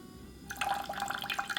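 Rice vinegar poured into a pot for sweet and sour sauce gives a soft, close liquid trickle with light dripping, starting after a brief quiet moment and running steadily to the end.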